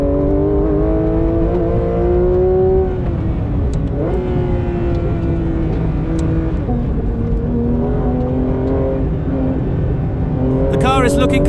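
A Manthey Racing Porsche GT3 RS howls around a race track, its engine loud and near with a steady high-revving drone that dips briefly as the throttle lifts, then climbs straight back up.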